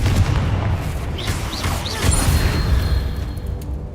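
A Confringo fire spell blasting in Hogwarts Legacy during a troll fight, a loud dense rumbling boom with crackling debris and chirping game effects, sustained across the stretch with no speech over it.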